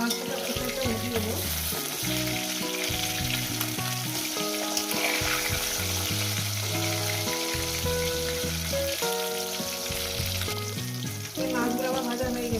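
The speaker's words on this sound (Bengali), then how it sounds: "এই মাছগুলো আমার ভাজা হয়ে গেছে, বেশি কড়া করবো না," Katla fish pieces frying in hot oil give a steady, continuous sizzle that runs the whole time beneath louder background music.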